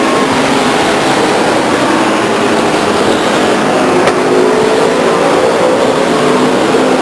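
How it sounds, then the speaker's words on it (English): Race cars roar around the oval at Stockton 99 Speedway, a dense, steady wash of engine noise from a pack of cars running close together, loud and unbroken throughout. "The top 5 cars going to turn 3 now."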